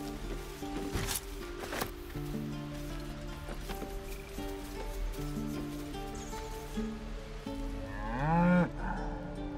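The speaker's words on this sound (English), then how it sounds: "This creature isn't what it appears to be. Moo!" A cow in Baldur's Gate 3 lets out a single drawn-out moo near the end, close and fairly loud above steady game ambience and music.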